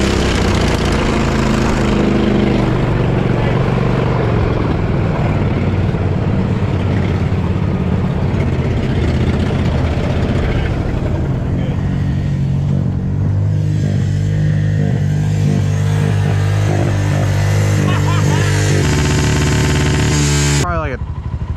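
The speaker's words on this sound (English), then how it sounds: "Mud mower pulling another mud mower" An off-road mud lawn mower engine drones loudly and continuously up close while towing another mower at a mud park, its pitch shifting as it labors, with voices faintly underneath.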